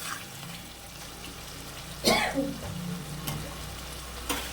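Spices being sautéed with water in a pan for a potato curry, a steady close sizzle with a sharper hiss when liquid or stirring hits the hot pan and a few scraping strokes.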